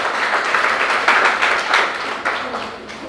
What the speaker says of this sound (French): je vous prie de donner un tonnerre d'applaudissements